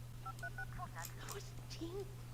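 A mobile phone being dialed in The Sims, a quick series of beeping keypad tones followed by warbling chirps, heard quietly under a speaking voice.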